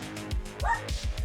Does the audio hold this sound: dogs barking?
yes